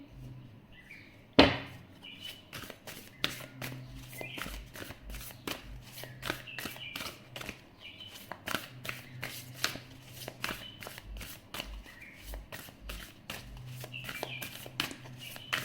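Tarot cards shuffled by hand in rapid, rhythmic riffles and taps, a continuous crisp flutter at close range, opening with a sharp knock.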